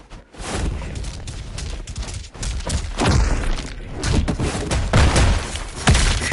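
Roblox gunfire rattles in a rapid run of loud, punchy shots and thuds, clustered bursts close together with no speech.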